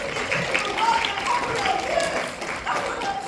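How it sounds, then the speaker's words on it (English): Applause from an audience at a university career-confidence talk, a steady wash of clapping lasting a few seconds, with some speech-like sound mixed in. "Please give her a round of applause."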